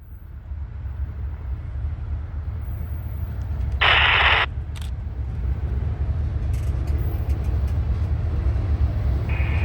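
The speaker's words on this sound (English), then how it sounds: "from the south also comes M457, the daily manifest out of Waycross, Georgia, heading for the north end of the yard" Freight train M457, a daily manifest out of Waycross, Georgia, arrives at a rail yard in Orlando with a steady low rumble of rolling cars and a brief hissing burst partway through.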